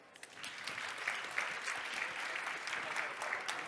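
A crowd claps at a startup reverse-pitching event, steady mid-level applause building after a brief quieter start and holding evenly to the end.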